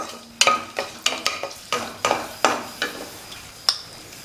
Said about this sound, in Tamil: எல்லாமே சேர்த்துட்டு எண்ணெயில் ஒரு 2 நிமிஷம் வதக்கி விட்டுறலாம்.